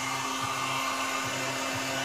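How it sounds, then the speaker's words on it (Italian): Steady broadband blowing of a hair dryer running close by, heating a motorcycle decal, with a constant motor hum and a faint periodic pulsing. "Bisogna prendere il phon, un phon belli da carrozziere"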